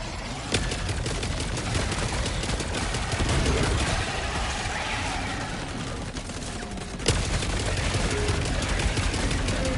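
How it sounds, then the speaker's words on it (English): Sentry gun firing nonstop in Helldivers 2 during a fight against bugs: a loud, dense stream of rapid automatic shots, with a couple of sharp louder cracks standing out from the continuous barrage. "let me restock the sentry gun"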